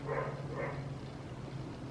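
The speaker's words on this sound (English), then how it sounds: "There's a dog barking above me and it sounds like it's like in my room, like on the ceiling" A dog barks twice from upstairs, sounding muffled and somewhat distant through the ceiling over steady background noise.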